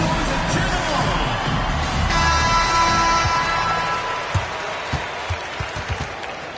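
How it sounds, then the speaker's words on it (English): A crowd in a basketball video game claps and cheers, a loud wash of applause that starts full, then thins into scattered claps and thumps, with a tonal chime partway through. "Make some noise and cheer them on."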